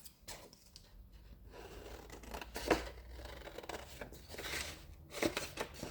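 Scissors snip and cut paper pieces for a handmade journal, quiet close-up crunching cuts with soft paper rustling between them, no voices.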